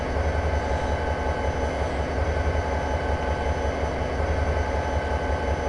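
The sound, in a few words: train coasting into siding, Train Simulator video game, Cajon Pass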